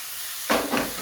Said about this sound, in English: This is when we're going to add the prawns in.